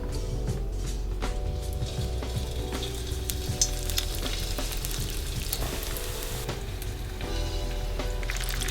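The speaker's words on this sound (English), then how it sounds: "Make sure your oil is hot, and then we can start frying now." Spring rolls fry in hot oil with steady, dense sizzling, a constant crackling hiss with scattered pops, close up and continuous throughout.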